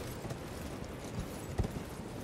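Heavy hoofbeats of a large mounted enemy's horse in Elden Ring, a few irregular thuds, one louder near the end, over a steady wash of hissing game ambience, with no talking.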